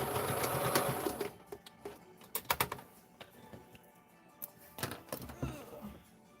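A home sewing machine finishing a seam on a padded dress form cover runs in a brief whir, then gives way to scattered soft clicks and handling taps, faint and close.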